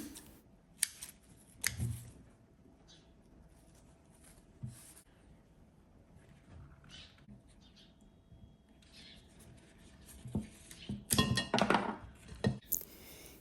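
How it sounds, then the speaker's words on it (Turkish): Scissors snip through orchid flower stems, a few sharp clicks spread across a quiet indoor scene, with a denser cluster of cuts and rustling near the end. "Hemen çiçek dallarını kesiyorum."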